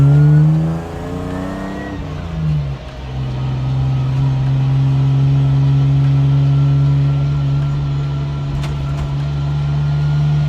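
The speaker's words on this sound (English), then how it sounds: "Diff's definitely pretty damn noisy." A BMW E46 fitted with a 4.44 differential accelerates with a steady, close engine drone and a noticeable whine from the noisy diff, after a brief spoken remark from inside the car.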